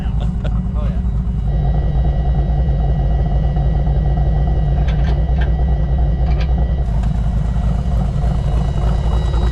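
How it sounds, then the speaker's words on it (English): A demolition derby car engine runs loud and steady, a continuous heavy rumble with a slight mechanical whine on top, with no pauses from start to finish. "we just got my derby car running good."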